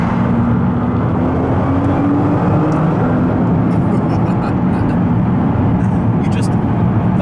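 Loud, continuous engine roar from a supercar, an Audi R8 or Nissan GTR, accelerating hard with a rising tone and a dense rumble, heard from inside the car with some faint clicks.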